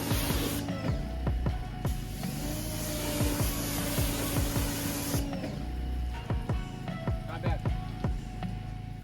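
Ceramic sealant sprayed onto a car body during detailing, a steady broad hiss of spraying that cuts out partway and resumes, with handling clicks and taps throughout and faint voice in the background.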